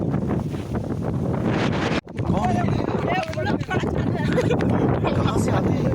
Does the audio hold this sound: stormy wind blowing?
yes